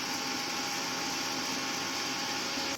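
A mixer grinder grinds coconut for a country-chicken curry, giving a steady, loud, continuous whir that runs unbroken from start to end with no voices over it.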